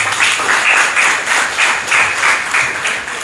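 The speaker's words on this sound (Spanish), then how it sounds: "Aplausos, por favor." An audience at a social work lecture breaks into steady, sustained applause, a dense wash of many hands clapping in a room, loud and continuous with no talk over it.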